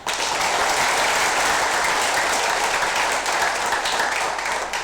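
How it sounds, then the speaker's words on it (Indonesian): Steady applause from an audience at a Quran handover ceremony involving a prison head in Gorontalo, dense and continuous clapping at even loudness throughout, with no speech over it. "Tepuk tangan untuk beliau."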